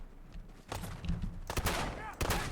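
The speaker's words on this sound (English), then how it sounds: "Is that something shooting at me?" Fallout 4 gunfire crackles in several sharp bursts close by, with a few scattered single shots and short volleys over game background noise.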